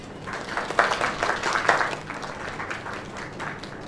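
A short burst of applause from a small crowd in a video game, clapping rising to a peak then thinning out within a few seconds.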